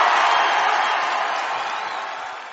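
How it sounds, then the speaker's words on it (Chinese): A crowd cheering and whooping in a steady broadband roar, loud at first and slowly fading over a couple of seconds, with no clear speech. "互伊一个欢呼声。"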